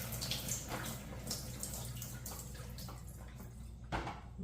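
Water poured over halved, washed young pine cones in a pot before boiling them for syrup, a continuous splashing trickle with small dripping plinks, close and fairly loud.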